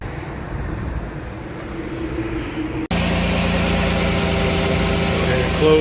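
A Dodge Grand Caravan SXT with the 3.6 engine fires up midway after a quiet stretch, then settles into a steady, close idle hum that holds to the end.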